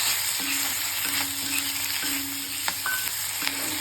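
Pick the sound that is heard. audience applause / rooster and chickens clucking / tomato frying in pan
tomato frying in pan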